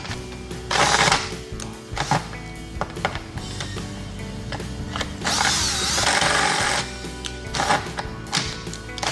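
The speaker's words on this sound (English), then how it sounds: "I might have to drill the lock" A power drill whines in bursts, revving up and easing off several times, with grinding and metallic chatter as it bites into a pinball machine's metal lock, close and loud.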